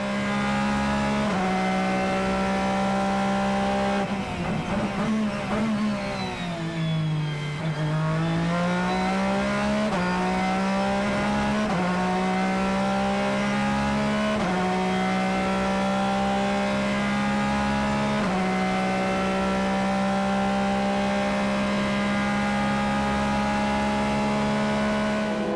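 Endurance race cars at the FIA WEC 8 Hours of Bahrain drone past continuously at dusk, a loud sustained engine whine rising and dipping as cars accelerate and shift gears, with one car sweeping by in a falling pitch.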